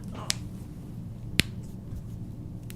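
Knuckles being cracked, with two sharp isolated pops about a second apart over a steady low room hum.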